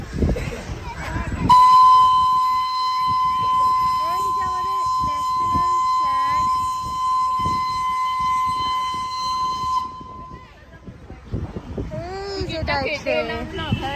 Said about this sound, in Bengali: ওই যে টয় ট্রেন